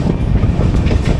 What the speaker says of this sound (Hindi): बहुत कम वैसे ऐसा पैरेलल देखने को मिलता है और वो निकल रही है हमारी पटना तेजस राजधानी।